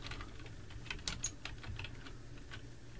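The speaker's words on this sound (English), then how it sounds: "in this search field right up here, you want to type in Control Panel" Keys clatter on a computer keyboard as a search term is entered into a Windows 11 taskbar search field, a short run of light, irregular taps heard fairly close over a quiet room.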